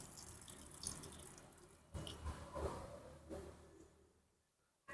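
Water poured out of a polybag of paddy-rice soil splashes and trickles faintly in uneven bursts, then fades toward the end, with no talking.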